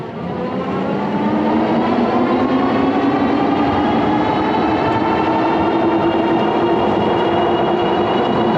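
A Tomofree YYG BR100 moped-style e-bike rides on throttle alone, giving a steady, continuous motor whine with rolling road noise that holds evenly throughout.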